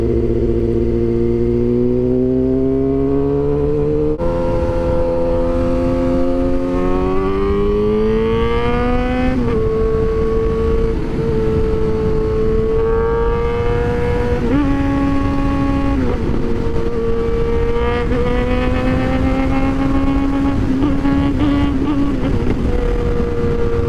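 A two-stroke motorcycle engine running steadily and loud, its pitch climbing and stepping down several times as gears change under braking, with no voices.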